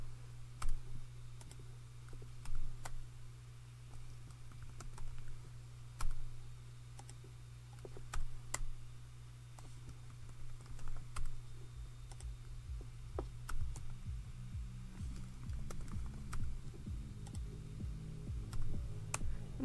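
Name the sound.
typing on a computer keyboard to change text in Blender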